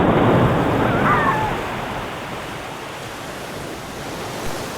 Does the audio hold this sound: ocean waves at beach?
yes